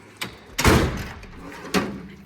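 Drawers of a Cornwell tool chest slide and bump in a garage, giving a few sharp thuds with a rolling scrape between them, close by.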